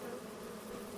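Bees hum in a constant buzzing drone in Farming Simulator 25, an even, close swarm sound that holds steady throughout with no voices.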